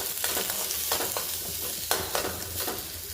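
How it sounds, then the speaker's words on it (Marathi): Lengthwise-sliced onion frying in oil for tondli bhaji, a steady close sizzle with repeated scraping stir strokes and no talking. "कांदा परतून घेते"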